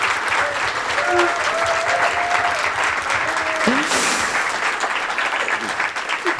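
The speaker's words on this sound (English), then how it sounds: "So can we give Caroline a little cheer?" An audience at a live Chelsea podcast event applauds and cheers a former Chelsea ladies player, giving steady, dense clapping throughout with scattered whoops, and a voice talking faintly underneath.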